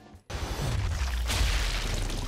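An explosion in the video game Sniper Elite 4 sets off a sudden deep boom, then a sustained low rumble with a brighter crackling burst about a second later, moderately loud, with no voices.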